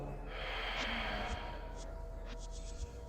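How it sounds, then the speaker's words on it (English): A slow, deep exhalation during a relaxation breathing exercise, a long soft breathy rush of air lasting about three seconds, close and steady, with faint sniffs on top. "exhale out"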